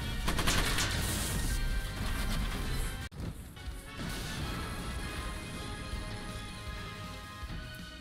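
Mech weapon fire in Front Mission 1st Remake, a loud sustained clatter of rapid crashing shots that cuts off abruptly midway, then resumes as a steadier, slightly softer roar of impacts.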